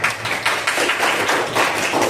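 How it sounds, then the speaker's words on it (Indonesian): A group of people, likely a school class, claps hands together in close, loud, fairly rhythmic bursts. The clapping is sustained with no speech over it. "Tepuk tangan untuk kita semua"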